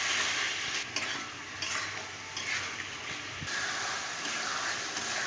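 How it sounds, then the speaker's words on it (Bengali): Spice paste with turmeric, chili powder, slit green chilies and a splash of water sizzles loudly in a pan as it is stirred and cooked down, a continuous close hiss with occasional scraping strokes and no voices. "এবার ভালো করে মশলাটা কষিয়ে নেব।"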